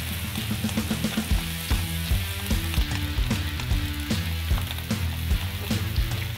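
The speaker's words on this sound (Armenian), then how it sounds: "սոխի եւ գազարի վրա ավելացնում ենք գունավոր տակդեղը եւ շարունակում ենք տապակել" Onion, carrot and colored bell pepper fry together in a pan with a steady, close sizzle, interrupted by occasional stirring and scraping clatter.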